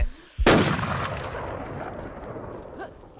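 A gunshot rings out in the shooter game Infest, one loud close report with a brief echoing tail, followed by fainter game sounds.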